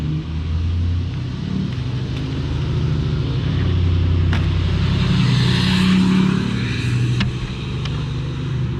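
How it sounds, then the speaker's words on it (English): A Ford truck fitted with a turbo drives past on a road by the Mississippi River, its engine a steady low rumble that swells gradually and then fades over several seconds, heard alone without talk. "I gotta wait for this truck to go by because it's a Ford and he's got a turbo in it."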